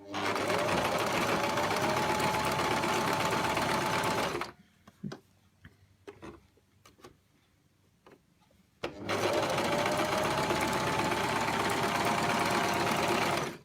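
Sewing machine stitching ruffles with a ruffler foot, a loud steady mechanical whirring run, a pause of quiet clicks and handling, then another long run.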